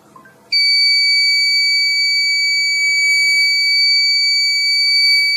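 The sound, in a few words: alarm buzzer triggered by an Arduino voice controller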